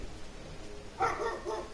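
A pet dog barks a few times in a home setting, fairly faint and somewhat distant, with short yappy bursts after a quiet stretch of low room noise.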